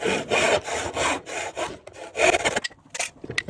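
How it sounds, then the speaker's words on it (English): A hand saw rasps back and forth through wood in steady strokes, close and loud, slowing into a few shorter final cuts. "We'll start off by sawing our wood to the length that we want."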